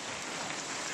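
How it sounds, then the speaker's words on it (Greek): Heavy rain and hail pour down during a winter snowstorm in Crete, producing a dense, steady hiss that stays close and constant throughout, with no voices. "Και χιονίζει και ρίχνει."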